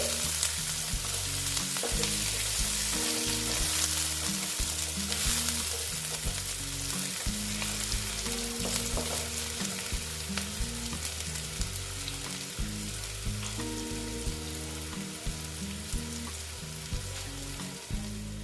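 Onions frying slowly in a pan for a boal fish mustard-poppy dish, a dense steady sizzle under a low rhythmic humming drone that pulses throughout, with faint stirring scrapes and no talk.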